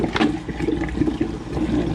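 Water circulates and percolates in a compost tea brewing bucket, a steady bubbling, sloshing churn heard close and fairly loud throughout, with no talk.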